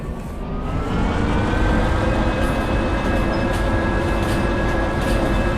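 Train locomotive moving in the Derail Valley rail simulation game, a loud steady rumble with a rising whine held throughout, no talk.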